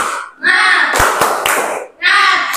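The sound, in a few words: class rhythmic clapping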